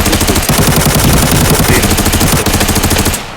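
Sustained rapid machine gun fire in a video game, loud and continuous with a dense rattling rhythm, cutting off abruptly near the end.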